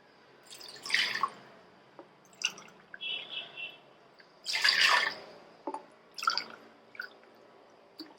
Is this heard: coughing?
no